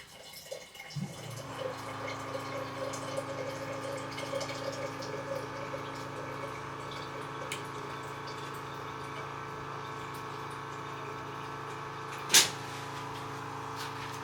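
Water running from a dispenser into a container in a home kitchen, a steady pouring hiss with a faint hum, close by, with a brief clack near the end.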